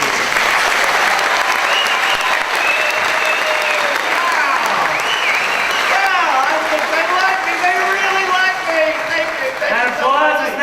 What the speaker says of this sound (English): That applause is not for you.